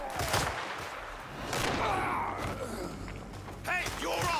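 Bursts of video game gunfire crackle in rapid volleys amid a chaotic fight in a desert battle, with loud thuds and shouting voices mixed in.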